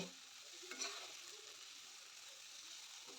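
Jackfruit seeds stir-fried with spices in a pan for a Bengali recipe, giving a steady, soft sizzle with light scraping of stirring, a brief louder scrape near the start, and no talking.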